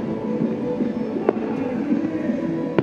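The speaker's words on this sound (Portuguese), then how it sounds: "2022 nem tinha chegado, mas os fogos de artifício já coloriam o céu cinzento de Belo Horizonte." Fireworks go off over Belo Horizonte on New Year's Eve: a few sharp distant cracks and pops cut through a steady low rumble of crowd and city noise.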